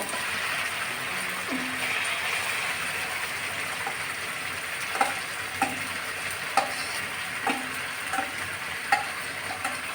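Fried onions being stirred into a masala in a pan for a rohu fish dopiaza: a steady sizzle of frying runs throughout, with a few sharp spoon scrapes and clacks against the pan in the second half.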